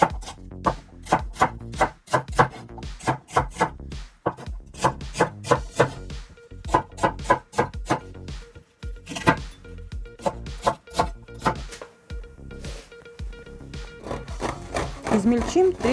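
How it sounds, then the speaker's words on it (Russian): A knife chops celery stalks on a board in quick, crisp, rhythmic cuts. The bursts are separated by short pauses, and a voice talks over parts of the chopping. "Три черешка сельдерея тоже нужно порезать"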